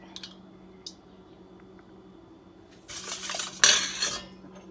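Utensil clinks against a bowl as sugar, condensed milk and egg are mixed for cinnamon roll dough; a few light taps early, then a denser burst of scraping, clattering stirring near the end.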